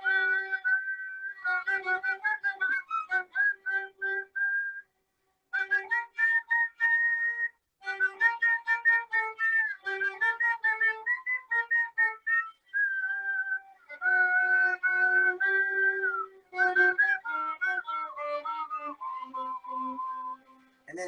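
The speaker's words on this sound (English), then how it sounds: "When they would start a tune, sometimes they would whistle" Airy, melodic whistling of a Moldavian folk tune, played the way klezmer-style violinists whistle before taking up the fiddle; phrases come in bursts with short pauses, clear and close, with no talking.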